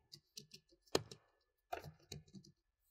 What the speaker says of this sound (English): press return enter on the keyboard to confirm